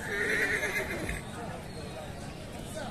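A horse at a horse market in Pakistan gives a clear, close whinny near the start. Hoof sounds and people talking are heard in the background.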